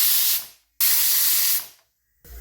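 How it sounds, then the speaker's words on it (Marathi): A pressure cooker cooking khichdi on medium gas releases its whistle as two long, loud, close bursts of hissing steam, each fading off, followed by a brief third onset at the end. "या आपल्या 2 शिट्ट्या काढून झालेल्या आहेत."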